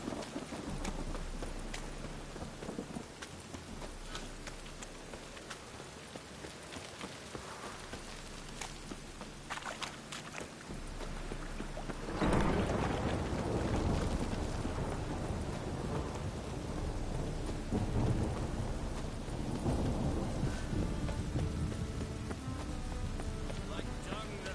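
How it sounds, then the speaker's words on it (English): Steady rain with rolling thunder in a fantasy video game, a dense continuous wash that swells into a louder, heavier rumble midway and stays strong to the end, with faint game sounds underneath. "Rain again."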